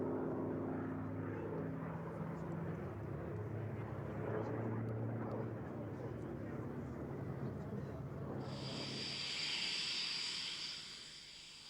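A Hawker Sea Fury propeller fighter flies past with a steady, droning engine roar that holds throughout, heard in a military setting with a voice speaking over it and a hissy wash near the end.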